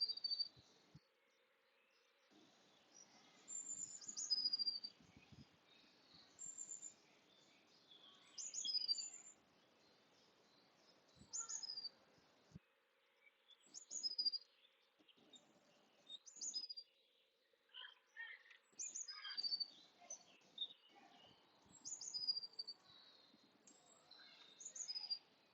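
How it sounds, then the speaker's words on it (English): Birds chirp and sing in short bursts outdoors, bright high calls recurring every few seconds over a steady low hum, with an insect-like trill in the background and no talking. "So you can also hear the birds,"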